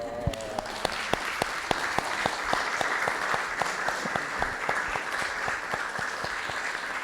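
An audience at a music festival conversation event applauds with sustained, dense clapping, and a few sharper, distinct claps stand out near the front throughout.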